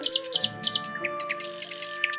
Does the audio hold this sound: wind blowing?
no